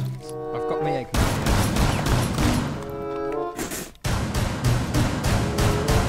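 Gunfire from the Rainbow Six Siege video game crackles in rapid bursts, rising to a dense, steady volley in the second half, with game noise and voices mixed in.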